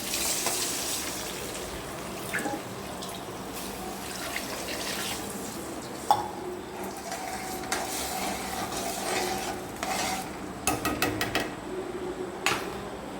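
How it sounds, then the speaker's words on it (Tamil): Water runs and splashes into a metal pot with steady liquid hiss, small clinks of cookware now and then; no voices. "ஒரு உலத்துக்கு ரெண்டு கப்பு தண்ணி ஊற்றணும் பாருங்க"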